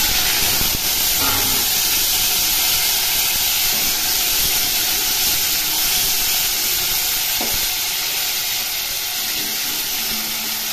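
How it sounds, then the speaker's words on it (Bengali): Potatoes go into hot oil that already holds fried cumin seeds, setting off a loud, dense, continuous sizzle and hiss with a few brief stirring knocks. "জিরে ভাজা হয়ে গেছে, এর মধ্যে আলুগুলো দিয়ে দিলাম।"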